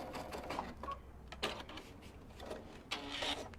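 A sewing machine runs a wide zigzag stitch over the edge of a kimono-style robe, with short close bursts of fast mechanical stitching separated by brief pauses.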